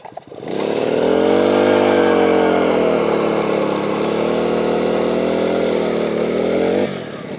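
A powered ice auger spins up and drills a fishing hole through lake ice on a weed line, a loud, steady engine whine with a slight pitch sag under load, starting and cutting off abruptly.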